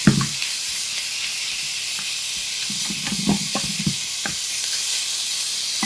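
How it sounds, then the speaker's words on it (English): Hot fat sizzles steadily in a pan of browning mince, with a few soft scrapes and knocks of a wooden spoon spreading the meat. "hear that? That's what you want, that lovely sizzle."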